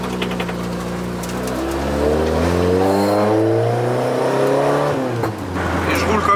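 A car engine revving and pulling through the gears while driving, loud and close, its pitch climbing steadily before dropping near the end, with a brief voice in the background.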